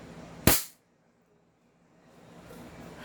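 A gun fires once through a chronograph: a single sharp, loud crack close by, followed by near silence and faint background hiss.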